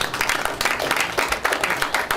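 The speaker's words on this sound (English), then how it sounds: "We ought to give him a clap" Attendees at a township board of trustees meeting clap steadily in a moderate round of applause that fills the whole stretch.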